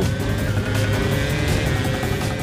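A Formula 1 car in a Kuala Lumpur track simulator accelerating through its gears, a loud, steady engine roar that fills the whole stretch with no breaks.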